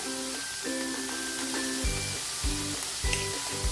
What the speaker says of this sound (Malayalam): രണ്ട് സവാള ചെറുതായിട്ട് ചോപ്പ് ചെയ്തത് ചേർക്കുന്നു